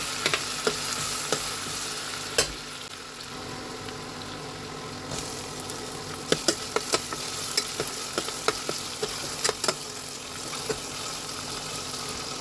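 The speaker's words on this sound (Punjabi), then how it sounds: "ਪਿਆਜ਼ ਆਪਣਾ ਫਰਾਈ ਹੋ ਗਿਆ ਜੀ" Onions fry with a garlic, ginger and green chili paste in a pan, a constant moderate sizzle broken by sharp, scattered clicks and scrapes of a spoon stirring.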